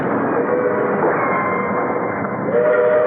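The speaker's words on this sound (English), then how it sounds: "Hey, wait, the train is slowing down." Sound effect from a radio comedy of a train slowing down: a continuous, loud rumble and clatter of rail cars runs throughout, with a faint whistle-like tone near the end.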